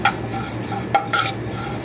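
Close, steady sizzling of chicken frying in a pan, with a spatula scraping and a couple of sharp metallic clinks.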